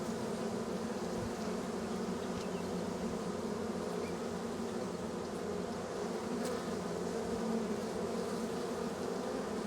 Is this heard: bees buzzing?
yes